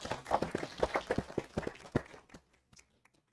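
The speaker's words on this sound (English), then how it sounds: "now we clap." A small group clapping at a city council meeting, a brief burst of separate hand claps lasting about two seconds, then trailing off into a few scattered claps and quiet.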